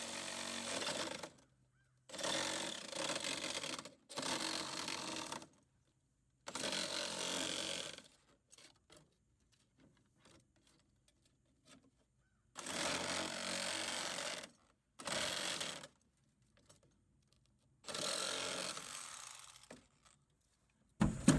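A Sawzall reciprocating saw cuts through a rubber tire to make a DIY poultry feeder. The loud, rasping buzz comes in about six close bursts, each a few seconds long, with short quiet pauses between them.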